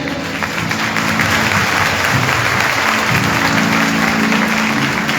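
Applause from a worship congregation in Sialkot, sustained and loud across the whole stretch, a dense even wash of clapping with a steady hum underneath and no speech over it.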